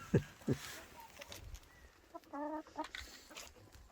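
Chickens in a snowy yard give several sharp, close clucks, then a drawn-out squawk and a few more clucks, with scattered quiet background noise between the calls.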